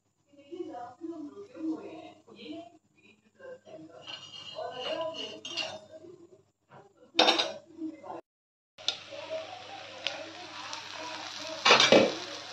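Mustard oil hits a hot tawa over a gas flame while a Bihari okra dish is cooked, giving bursts of sizzling with clinks and scrapes of pans and utensils, and a voice talking over much of it.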